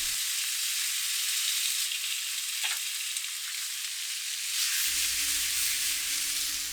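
Shrimp frying in a buttered pan, a steady close sizzle and hiss throughout with one brief crackle, alone without voices.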